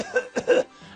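A man coughs in three short, harsh bursts close to the listener, the middle one strongest, followed by a faint trailing breath.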